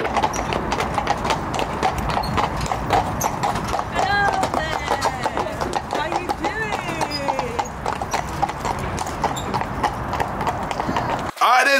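Hooves clip-clop steadily as a horse pulls a carriage, a brisk, continuous beat running close and loud throughout, with a brief whinny-like call in the middle and the sound cutting off sharply at the end.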